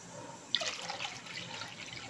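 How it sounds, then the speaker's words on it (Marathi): Water is poured into a clay pot to cook a rice soup, with a short splash at the start and then a steady, soft pouring trickle that carries on throughout, close by with no talking. "मातीचं भांडं मी घेतलेलं आहे, त्याला आपण पाणी टाकून घेऊ आणि हे आता आपल्याला उकळत ठेवायचं आहे।"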